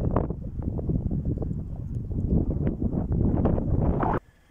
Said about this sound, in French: Je marche à contre-vent.